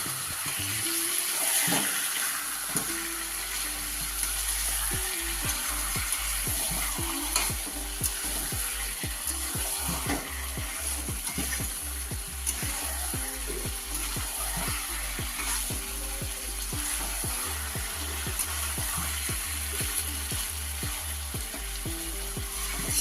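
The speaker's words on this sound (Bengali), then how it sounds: "মাংসগুলো দেওয়ার পরে এবারে একটু কষিয়ে নেব" Chicken pieces frying in a pan for a spicy red chicken curry, a continuous close sizzle under a steady rhythm of spoon stirring and scraping, without talk.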